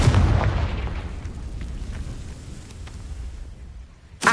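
A Confringo fire spell explodes in a Harry Potter video game, giving a loud, booming burst that rolls away into a fading rumble, with a sharp new hit at the very end.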